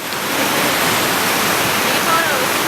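A mountain waterfall fed by glacier water near Garibaldi Lake pours in a continuous, loud roaring wash of white noise, with a voice faintly audible beneath it.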